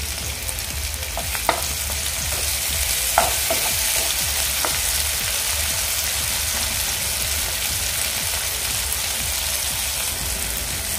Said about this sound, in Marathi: कांदा आपला व्यवस्थित परतून झाला आहे। यामध्ये आता मी टोमॅटो घालून घेते।